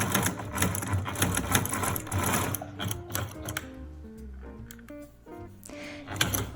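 A sewing machine stitches down small fabric triangles for piped buttonholes on a jacket, running in a rapid rhythmic chatter for a few seconds before slowing to slower, separated stitches and mechanical clicks.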